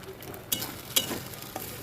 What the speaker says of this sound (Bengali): এবার এটাকে আবার ভালোভাবে ভেজে নিতে হবে,